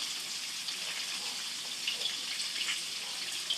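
Milkfish (bangus) frying in a pan of hot oil gives a steady, fine crackling sizzle with scattered pops, close and even throughout.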